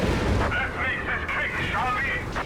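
Incendiary artillery strike in the video game Company of Heroes 3, a dense roaring crackle of fire and blasts running steadily throughout, with a commentator talking over it.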